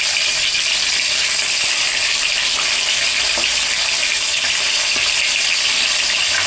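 Fish fries in a pan in a steady, loud, close sizzle, a continuous bright hiss with faint spatters throughout.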